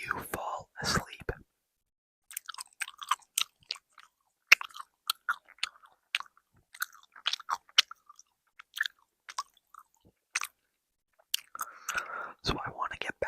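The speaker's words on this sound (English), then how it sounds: "with some gum chewing" Close, intimate gum chewing with soft wet clicks and smacks in irregular bursts, mixed with quiet whispering over near silence during a late-night Fortnite session.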